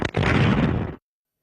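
A suicide bomb explodes at a crowded shrine, a single loud, close blast that roars briefly and cuts off abruptly after about a second.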